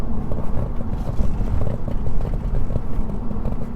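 Deep, steady rumble of a 2007 Audi RS4's V8 engine with about 140,000 miles, heard at a constant moderate-to-loud level throughout with no talking, the low drone unbroken and even.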